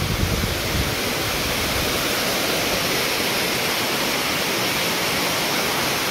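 A small hidden waterfall near Khopoli gives a loud, steady broadband rush that fills the whole span without pause, close at hand and with no other sounds standing out.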